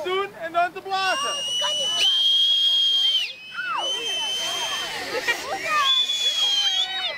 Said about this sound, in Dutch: dan kan je door je duimen erop te doen en dan te blazen